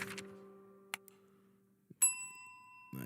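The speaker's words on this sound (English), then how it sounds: "Nice, get the bell going." A bell rung at close range, giving one bright, clear ding whose tone rings on and fades over about a second, after an earlier lower ringing tone and a few small clicks.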